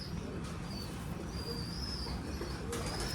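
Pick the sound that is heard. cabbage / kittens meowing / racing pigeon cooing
racing pigeon cooing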